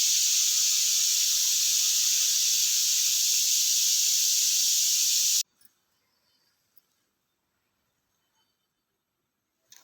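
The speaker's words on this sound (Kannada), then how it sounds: "ವಿಷಲ್ ಆಗ್ತಾ ಇದೆ." A pressure cooker cooking bisi bele bath lets off a loud, steady steam whistle that hisses continuously for about five seconds, then cuts off abruptly, leaving near silence with a few faint clicks.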